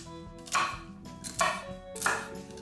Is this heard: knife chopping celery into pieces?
yes